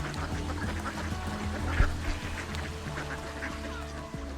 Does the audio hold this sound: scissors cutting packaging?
no